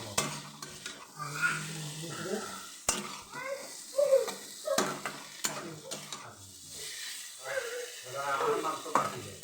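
Eggplant and potato curry fries in a pan with dried fish, spoon scraping and stirring with soft sizzling, while someone talks over it throughout.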